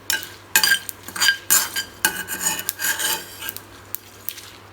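Curry leaves and whole spices dry roasting in a pan for chicken milagu varuval, with a dry rasping scrape of a spoon or ladle stirring across the metal in irregular strokes, close and fairly loud, no talk.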